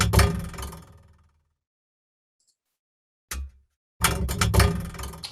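A bowed or struck cello note mimicking a door slamming shut: a loud, sharp attack decaying over about a second, then silence, a short thud, and a second heavy burst with clattering follow-up hits.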